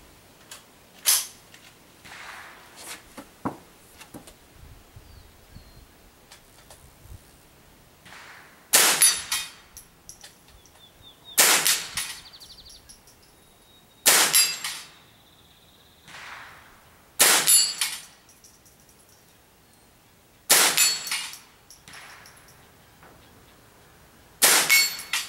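A Ruger 10/22 .22 rifle fires offhand at targets 50 yards away outdoors, several sharp cracks spaced a few seconds apart, each with a short ringing tail, quieter pops early on.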